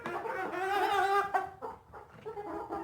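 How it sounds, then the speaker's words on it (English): A Red Star rooster clucks and calls close by in a backyard chicken flock, a loud drawn-out vocalisation followed by softer broken clucks, with no talking. "this is my Red Star rooster right here"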